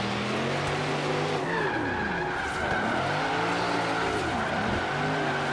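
Tires skidding and squealing as cars drift in tandem in the video game Forza Horizon 3, with engines revving up and down in waves under continuous screeching tire noise.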